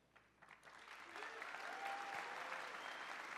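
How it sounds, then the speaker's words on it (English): An audience at Meridian Hall in Toronto bursts into applause that starts sparse and swells into a broad, sustained wash of clapping, with a voice faintly under it. "Please, you guys, a warm round of applause for the greatest in the world, man."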